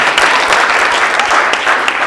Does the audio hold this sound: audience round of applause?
yes